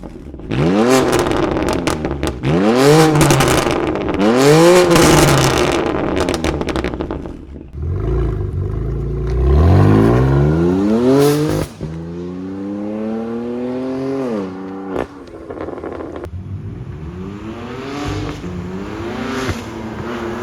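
A BMW M2 Competition fitted with JBOM 100-cell high-flow downpipes revs hard several times, its loud exhaust rising and falling in repeated close blasts with no talking.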